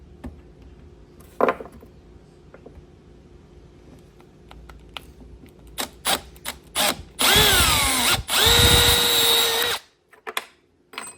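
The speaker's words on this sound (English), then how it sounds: "I'm gonna try to center these holes and drill them" A power drill whirs in short bursts, then two longer loud runs bite into aluminum with a rising whine, amid clicks and handling noise.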